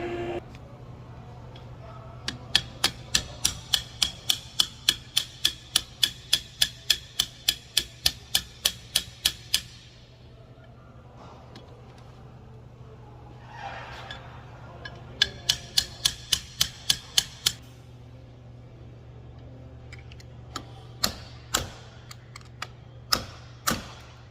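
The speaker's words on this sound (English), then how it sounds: "I take something light and I just tap the ears until I can get this to slide off of that bearing right there" Light tool rapidly tapping the ears of a 2006 Ford Crown Victoria P71 130-amp alternator to free the cover, bursts of crisp, evenly spaced metallic taps over a steady background hum, with a few scattered taps near the end.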